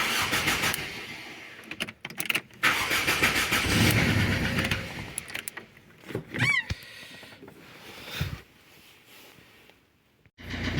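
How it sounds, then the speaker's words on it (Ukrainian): A Ford Fiesta engine cranks with a few clicks and whirs, then turns over and settles into a running idle close by, after its ignition switch contact group is replaced. "Проблема тепер ушла, тому що машина зараз працює"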